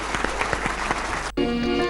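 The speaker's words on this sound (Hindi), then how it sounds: "इनके लिए तालियां" Audience clapping for musicians at a Kavi Sammelan poetry gathering, a dense, steady burst of applause lasting over a second before it cuts off abruptly into music.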